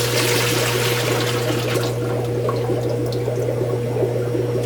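Water carrying freshwater shrimp is poured out of a bucket into an aquarium tank, making a steady close splashing and trickling that eases off toward the end over a constant low hum.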